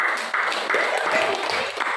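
Students in a classroom clap together in a brisk, slightly uneven burst, fairly close and full, with a few voices mixed in beneath the clapping.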